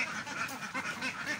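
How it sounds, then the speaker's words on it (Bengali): Khaki Campbell ducklings in a brooding pen quack in a rapid, overlapping chorus, close and continuous. "তো দেখেন হাঁসগুলো"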